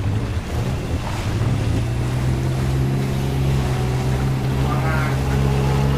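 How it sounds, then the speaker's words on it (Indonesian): Suzuki Jimny off-roader in the Mudrunner game wading through deep water without a snorkel: a steady engine drone with sloshing, rushing water holds loud and continuous throughout. "bahaya kalau kena air-air kayak gini kalau udah sampai kap mesin"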